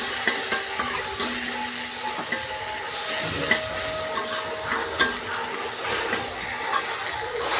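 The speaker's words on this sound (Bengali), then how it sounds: "সামান্য একটু জিরে দিয়ে দেব, আর সামান্য একটু আদা দিয়ে দেবো। দিয়ে আমি এটা ভালো করে ভেজে নেব।" Cumin and ginger fry in oil in a pan while being stirred, giving a steady loud sizzle with scraping stir strokes and small pops, close by and with no talking.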